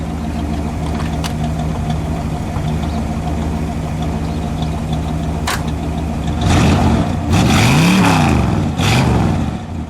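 A 1961 Pontiac Catalina convertible engine idles with a steady low rumble, then revs up sharply in three loud blips near the end, settling back between each one; no one speaks.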